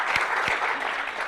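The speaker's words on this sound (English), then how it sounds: "I should have been clapping." Audience at a conference session applauding, a short burst of dense clapping filling the room, with a couple of louder claps near the start.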